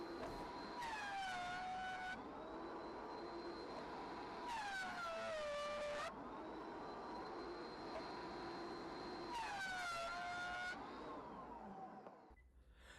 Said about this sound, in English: we need to plane these boards before we cut them to width